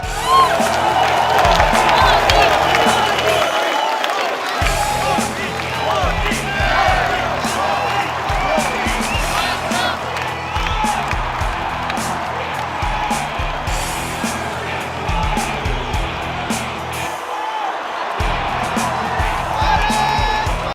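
A large audience in a hall claps and cheers for a long stretch, dense continuous applause with whoops and shouts rising above it, loud and sustained with brief dips before swelling again.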